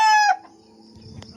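A white brooding hen with her chicks gives one short, loud call, then only a faint rustle and a soft cluck follow.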